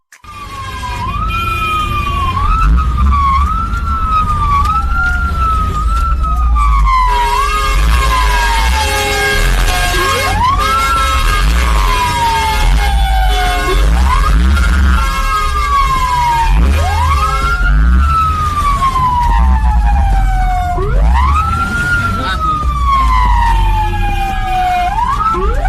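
Fire truck siren wailing loudly and continuously on an Indonesian road while on duty, its rising and falling sweeps repeating close by over a constant heavy engine rumble, with no talking.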